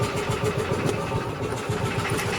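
A Lister CS stationary engine runs steadily on a concrete block, its air inlet and exhaust giving a close, continuous low chugging with a regular rhythmic pulse and no speech.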